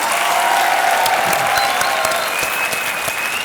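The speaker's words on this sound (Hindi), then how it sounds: "तालियां" A studio audience on a TV show applauds after a song from the film Tere Naam, a loud, sustained wash of clapping hands that continues without a break.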